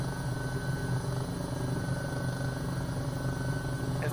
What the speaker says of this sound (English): everything changes quickly with this helicopter